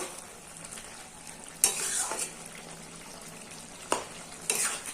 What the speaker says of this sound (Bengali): ঢাকাটা খুলে নিলাম, নিয়ে একটু নেড়ে দেবো।